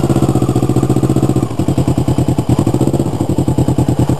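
A motorcycle rolls at low speed on a practice course in Taiwan, its engine thumping loud and close in a steady rapid rhythm.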